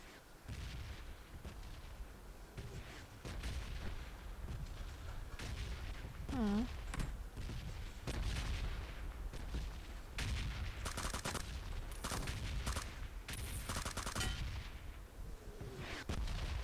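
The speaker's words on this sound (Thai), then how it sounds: "พี่มาร์คระเบิดระเบิดในบ้านเลยประตูแบบต่อหน้าต่อตาเขาเลยอ่ะ" Gunfire and explosions from a combat video game, dense overlapping booms and sharp cracks in repeated bursts, fairly loud and continuous throughout.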